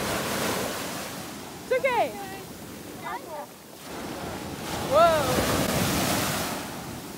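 Ocean waves and wind surging at sea from a ship, a steady rushing roar with swells, while voices call out briefly over it.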